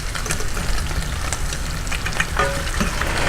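Bacon sizzles and crackles steadily in a pan for a ramen dish, the frying noise close and continuous with brief scrapes of stirring and no voices.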